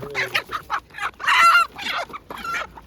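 Factory laying hens clucking close by at a market, a series of short squawky calls with one louder, drawn-out cackle in the middle.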